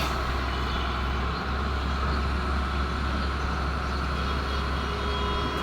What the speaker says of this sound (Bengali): এই যে পিক আপ ভ্যানগুলোতে করে ময়লা নিচ্ছে।